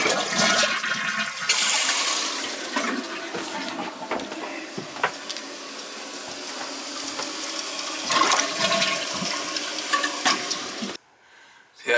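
A toilet leaking at its wax ring flushes loudly nearby, with a gushing, swirling rush of water and gurgles that run for several seconds before cutting off abruptly into near silence.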